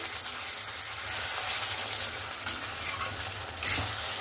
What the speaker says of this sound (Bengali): আমি আবারও নাড়াচাড়া করে নিলাম।